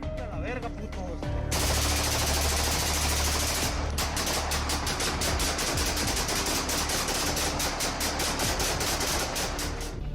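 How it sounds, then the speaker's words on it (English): Sustained rapid gunfire fired into the sky by a group of cartel gunmen, a dense barrage of shots that continues loudly for several seconds with no pauses. "the group unleashes a barrage of gunfire into the sky"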